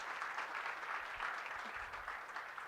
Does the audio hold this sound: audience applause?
yes